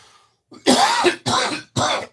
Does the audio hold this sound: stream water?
no